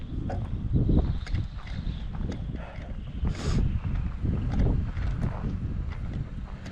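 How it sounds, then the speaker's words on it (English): Strong wind buffets the microphone in a steady, rumbling roar with gusty surges throughout, loud and close. "Says it's too windy out here, we're gonna blow away."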